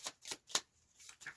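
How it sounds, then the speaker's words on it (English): Deck of oracle cards being shuffled in several quick riffling bursts, close and fairly quiet, without speech. "Oh, I have to shuffle first."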